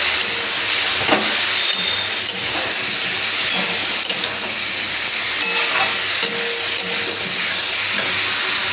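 Pointed gourd (potol) sizzles steadily in an oiled pan, a continuous close hiss with small crackles and a few scraping stirs.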